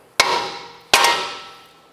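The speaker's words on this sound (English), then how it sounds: "Right here on the knuckle, I want to go ahead and strike this with a hammer." Two loud, sharp metallic hammer strikes on the steering knuckle of a 2007-2012 Nissan Versa to pop out the outer tie rod end, about a second apart, each ringing out and fading slowly.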